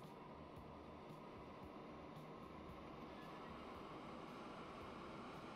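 A long freight train departs in the game Transport Fever 2, a faint, steady rolling rumble with soft wheel noise running evenly throughout, no voices.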